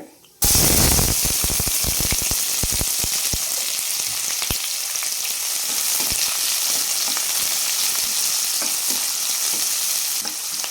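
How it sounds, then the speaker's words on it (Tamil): Finely chopped large onions hit a hot pan with a sudden loud sizzle and crackle, then keep frying in a steady hiss with scattered pops. "இது நல்லா பொன்னிறமாக வதங்கி வரட்டுங்க"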